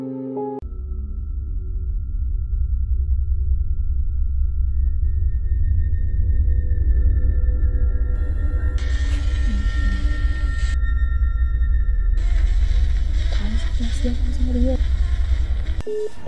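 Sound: failed phone call tone, no ringing

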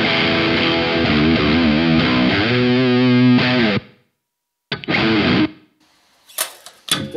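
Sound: electric guitar through Two Notes Torpedo C.A.B. M with reverb

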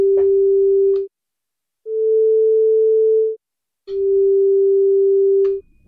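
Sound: FM synth tone with shallow attack and gentle release, Liven XFM

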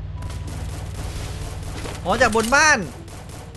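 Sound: gunfire and explosions in a video game

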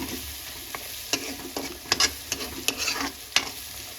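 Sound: masala being roasted and stirred in a pan

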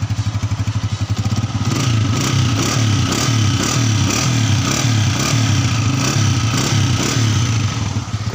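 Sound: 2010 Honda 125 motorcycle engine running

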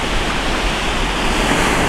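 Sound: ocean waves at a beach in Orange County

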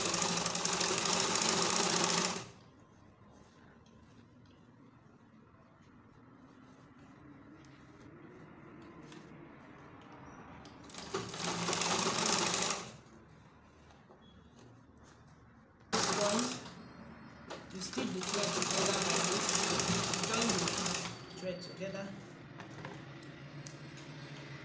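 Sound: sewing machine stitching elastic into a skirt waistband

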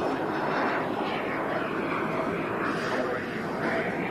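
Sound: Airliner aircraft engines, plane spotting

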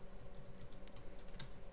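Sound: typing Java code on a computer keyboard

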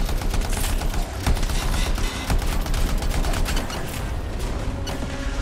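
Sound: gunfire in the video game Anthem

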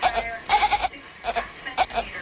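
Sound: cat screaming like a goat, played video

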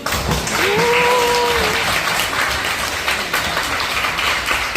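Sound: audience applause

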